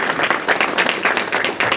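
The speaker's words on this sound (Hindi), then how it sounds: "तो आपकी जोरदार तालियों के बीच में हैंडओवर करें।" Audience clapping after a lecturer's talk at an RCM business event, a steady fairly close patter of many hands, moderately loud and continuous through the short stretch, with faint voices underneath.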